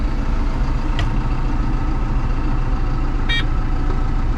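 A Cat 924F wheel loader's diesel engine idles loud and close with a steady, low, unbroken rumble. Two brief high clicks sound over it.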